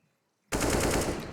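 A burst of automatic AK rifle fire in the game CS:GO, starting abruptly after a short silence and continuing as rapid, loud, closely spaced shots to the end.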